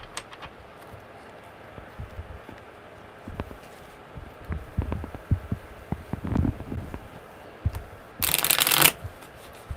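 Tarot cards being shuffled by hand, a series of soft riffling and sliding bursts that build to a loud, bright riffle near the end, close up with no talk.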